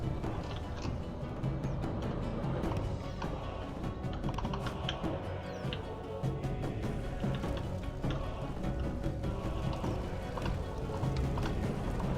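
Horses gallop amid a battle in the Stainless Steel strategy game, a quiet, rapid patter of many hooves running continuously, with faint clatter and no speech.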